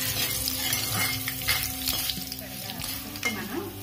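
Tempering for sorghum flakes pulihora stirred and frying in a pan, a steady close sizzle with scraping stirs throughout, no talk.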